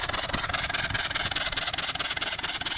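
A 3hp Briggs & Stratton engine converted to run on steam or compressed air runs at a steady speed. It makes a dense, continuous hissing, rasping chuff that stays loud and even throughout with no talk.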